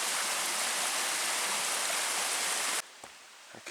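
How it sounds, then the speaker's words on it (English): A small waterfall on a wooded mountain hiking trail creek rushes in a loud, steady wash, close by, then cuts off abruptly near the end, leaving faint scattered sounds. "Little tiny waterfall there."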